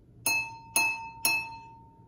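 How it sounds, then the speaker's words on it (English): A drinking glass filled with the most water is tapped three times at an even pace, each strike ringing out with a clear sustained tone that decays before the next. "The one with the most amount of water makes the lowest note."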